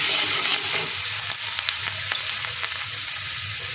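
Green chillies fry with cumin in a hot pan, giving a steady close sizzle broken by several sharp stirring scrapes, with no voices.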